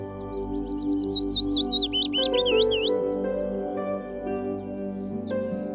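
Birds chirp in a cartoon set in Vrindavan, a quick run of high, bright tweets trilling over a sustained musical backing, with no talking.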